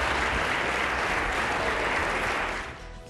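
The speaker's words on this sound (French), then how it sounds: "Une bonne main d'applaudissement au collège Jean de Brébeuf." Loud, dense audience applause for the winning Collège Jean de Brébeuf team at a youth quiz tournament final, a full continuous roar of clapping that stays strong, then tapers off quickly in the last half second.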